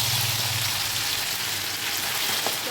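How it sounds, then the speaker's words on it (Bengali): Soaked, seasoned rice for basanti pulao fries in oil and ghee in a wok after a tempering of dried chillies, a dense, loud, steady sizzle close by. "ফোড়নটা ভাজা হয়ে গেছে, এর মধ্যে আমি যে মাখা চালটা ছিল সেটাকে আমি ছেড়ে দিচ্ছি।"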